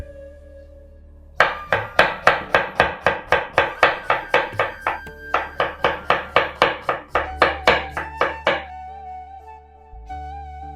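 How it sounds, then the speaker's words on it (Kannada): Onion is chopped with a knife on a board in a fast, regular run of about two dozen sharp, close thuds, broken by one brief pause, before it falls quiet. "ಮೊದಲಿಗೆ ಈರುಳ್ಳಿ ಕಟ್ ಮಾಡೋಣ"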